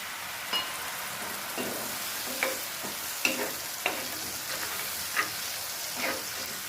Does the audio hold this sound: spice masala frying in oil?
yes